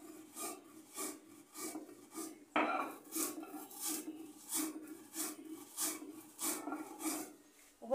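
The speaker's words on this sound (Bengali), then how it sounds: "এখন আমি খালি জিরাগুলো পাটার মধ্যে পিষে নিলাম।" Black cumin seeds are ground on a stone slab with a rhythmic, rasping back-and-forth scrape, each stroke steady and close, repeating about twice a second, alone without talk.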